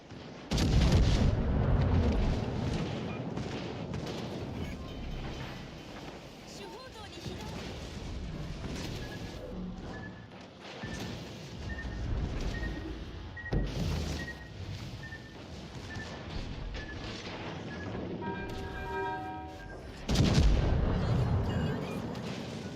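Warship guns fire in World of Warships Legends, heavy booming blasts and rumbling bursts recurring throughout, loud and close, with a voice talking over the battle at times.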